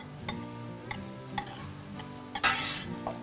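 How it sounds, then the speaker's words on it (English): Chopped celery, about six stalks cut into small pieces, being stirred into softening onions in a soup pot: a steady soft sizzle with a few sharp spoon knocks against the pot, close and fairly quiet. "Stir that in with our onions."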